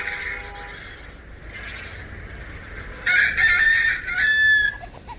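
A rooster crows loudly and close by, answering a recorded rooster call played back from a phone, with two strong bursts of crowing in the second half over a steady background hum.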